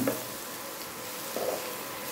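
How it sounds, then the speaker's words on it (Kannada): Onion samosa filling seasoned with a little garam masala, frying and being stirred in a pan, with a steady soft sizzle and a couple of faint scrapes, close and alone. "ಇದನ್ನೆಲ್ಲ ಚೆನ್ನಾಗಿ ಮಿಕ್ಸ್ ಮಾಡ್ಕೊಳ್ಳೋಣ. ಹಸಿ ವಾಸನೆ ಹೋಗೋ ತನಕ ಚೆನ್ನಾಗಿ ಹುರ್ಕೊಳ್ಳೋಣ."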